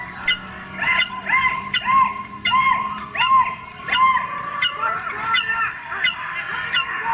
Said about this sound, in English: That high-pitched, repetitive bird noise is actually the call of a huge golden eagle.